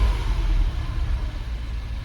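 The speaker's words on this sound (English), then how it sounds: "I'm going to run the car a bit now" Mini car engine running with misfires on cylinders three and four after oily spark plugs were cleaned, a close low uneven rumble that keeps pulsing and wavering throughout with no talk.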